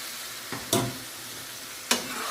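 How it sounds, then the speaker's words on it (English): A ladle of base gravy hits a sizzling pan of chicken Madras curry, bringing a brief splash and a steady frying hiss with a couple of sharp stir scrapes, close up. "Now it's time for the first ladle of base gravy."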